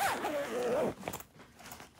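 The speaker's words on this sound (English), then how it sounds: "and zip it up." A garment bag tote is zipped shut in one quick, close pull lasting under a second, followed by faint handling rustle.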